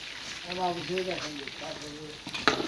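Food for a village wedding feast in Bangladesh sizzles and fries in a large pan, a steady hissing bed beneath a voice, with a sharp clatter near the end.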